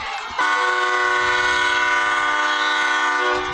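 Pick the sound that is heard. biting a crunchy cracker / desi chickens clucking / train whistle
train whistle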